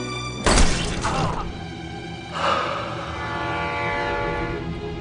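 Rumbling old train on rails in Gokseong with a loud burst of clatter, then a sustained horn-like tone over steady rolling noise.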